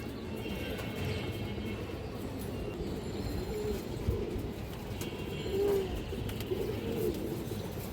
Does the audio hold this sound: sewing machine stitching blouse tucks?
no